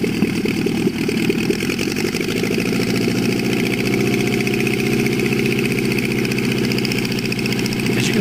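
Engine of a Lobet Ganagobie light aircraft running steadily on a runway, a continuous near droning hum with rapid pulsing, loud and unbroken throughout with no voices.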